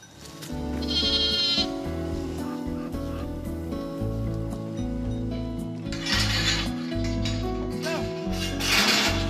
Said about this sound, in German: Neben den 40 Schafen gehören 20 Geissen, 3 Katzen und die Border Collie Hündin Perla zum Hof.